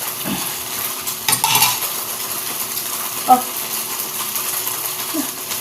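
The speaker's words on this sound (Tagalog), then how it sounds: "Hugasan ko lang itong mga natira ditong mga hugas." Leftover dishes are washed by hand, with scattered clinks and scrapes of cutlery and pots, one sharper clatter standing out, over a low background hiss.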